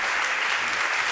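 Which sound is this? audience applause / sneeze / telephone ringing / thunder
audience applause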